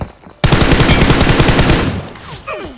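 Rapid automatic gunfire from a shooter video game erupts as a sustained loud burst of closely spaced shots lasting about one and a half seconds, then trails off into fainter effects.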